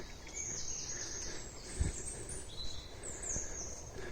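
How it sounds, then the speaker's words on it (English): Faint high chirps and whistled bird calls scattered over a steady outdoor hiss, several birds at a distance, no talking. "I'm surrounded by bird song down here"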